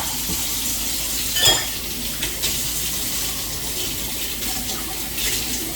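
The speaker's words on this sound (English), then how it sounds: "Let me rinse my hands" Water runs from a tap in a home kitchen while hands are rinsed, a steady moderate hiss that continues throughout, with a brief louder splash near the start.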